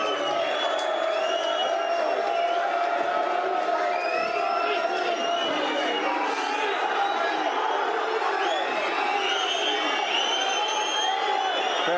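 A football crowd at Middlesbrough versus Millwall howls and whistles for the final whistle, a dense, loud, continuous roar with rising shrill whistles and shouts from many voices throughout.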